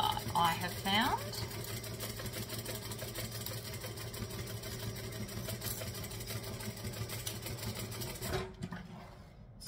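A sewing machine stitches a saddle bag in one smooth continuous run, a close, steady mechanical whir with a rapid needle rhythm, while someone talks over it before it stops abruptly near the end.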